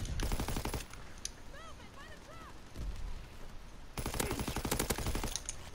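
Rapid automatic gunfire in a team deathmatch shooter video game comes in dense loud bursts at the start and end, with game effects in between and a voice talking.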